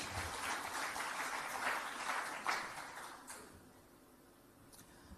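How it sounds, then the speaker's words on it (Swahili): An audience claps at a public event in Tanzania tied to a sports club stadium, a soft, fairly distant patter of applause that fades away after about three seconds, with no speech over it. "Makofi mengi tafadhali."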